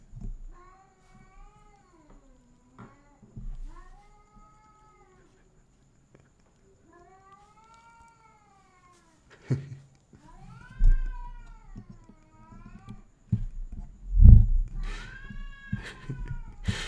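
Several meows from a cat on a neighboring roof come in separate bursts with quiet pauses between them, slightly distant. Louder scuffing and thumps follow near the end.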